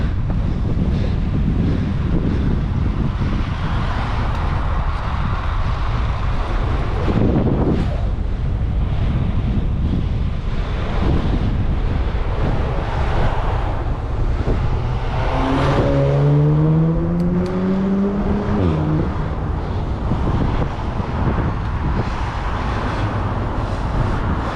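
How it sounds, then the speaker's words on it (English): Strong wind buffets the microphone nonstop while cycling through Sheffield in August, a loud, steady low roar. Near the end a vehicle briefly whines past. "it's windy."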